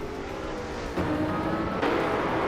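Race cars in a video game race, a loud, close engine whine that jumps up twice as cars overtake and gear changes hit, holding a sustained roar throughout.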